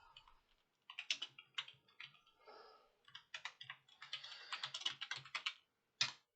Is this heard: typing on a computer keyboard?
yes